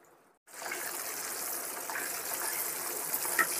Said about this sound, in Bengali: শ্যালো ফ্রাই যেটাকে বলা হয় সেইভাবে এটাকে এখানে আমি দিয়ে দিচ্ছি। এটাকে কিন্তু খুব লো ফ্লেমে ভাজতে হবে